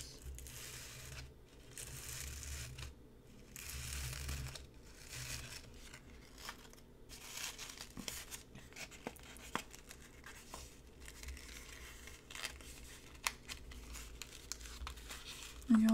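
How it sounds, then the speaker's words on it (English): Paper for a craft tea pocket is handled and gently folded, giving soft crinkling and rustling in bursts close by, with scattered light taps and creases and no talking. "This one is a bit too big, so I have to gently fold one of the side just a bit."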